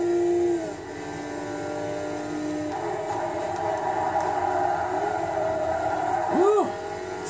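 Porsche engine in the Forza racing video game, a sustained tonal drone that rises in pitch and volume as it revs, with a quick swooping engine surge near the end, fairly loud and steady throughout.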